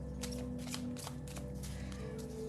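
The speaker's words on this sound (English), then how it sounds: "So I'm going to shuffle the cards." Tarot cards are shuffled by hand in a quiet room, a series of soft riffling bursts and papery flicks in quick irregular succession, close and fairly faint over a low background hum.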